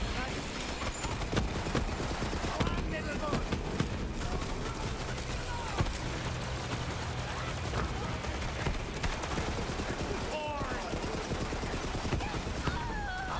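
Gunfire in Borderlands 3, with dense, rapid shots and clattering impacts rattling on continuously at moderate volume amid busy game noise.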